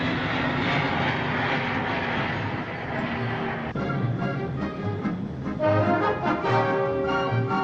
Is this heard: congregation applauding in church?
no